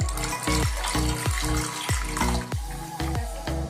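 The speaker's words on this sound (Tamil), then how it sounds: "தேவையான அளவு தண்ணி சேர்த்துக்கலாம்" Water pours and gushes into a cooking pot of rasam in short repeated bursts, splashing with a faint sizzle underneath, close by and moderately loud.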